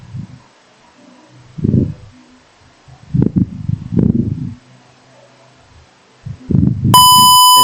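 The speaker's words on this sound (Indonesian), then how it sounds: "sensor akan berbunyi jika jarak kurang dari 200 cm dan berbunyi semakin cepat" A car parking sensor built as an IoT project gives one sustained electronic beep near the end, after several dull, low thumps and handling noises in a quiet room.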